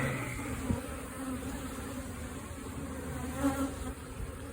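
Honeybees buzz steadily around a frame of honey and brood pulled from a hive during a colony split, a dense close hum with a few louder swells as the agitated insects move.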